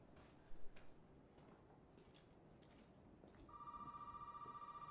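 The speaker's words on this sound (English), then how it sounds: "Oh, the phone is ringing." A telephone ringing in the Resident Evil 7 video game, a steady electronic ring that starts partway through and continues over a dim, murky room ambience, fairly faint and at a middle distance.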